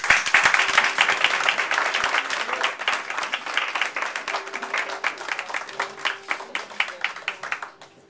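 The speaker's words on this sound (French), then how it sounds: "Je vous demande d'applaudir Francine et Teddy Blattaz." An audience at an evening presentation applauds a couple being introduced, dense clapping that starts at full strength, continues steadily and fades toward the end, with a few faint voices beneath.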